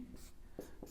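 A chemistry reaction product written out by hand, heard as a few brief scratchy strokes close up and faint against quiet background hiss.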